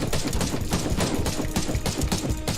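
Rapid gunfire from a headshot attack in Warhammer 40,000: Inquisitor - Martyr, a dense burst of sharp repeated shots with steady loud rattling throughout.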